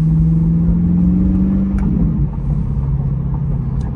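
Chevrolet C8 Corvette engine warming up on a very cold day, a steady close idle drone with a deep hum that shifts slightly lower midway, loud and continuous with no talk.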